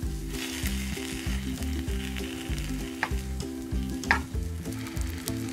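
Patishapta pitha sizzling steadily in a pan while being flipped, a dense, continuous fry hiss with a few sharp scrapes and clicks of a spoon near the end, close and fairly loud with no talking.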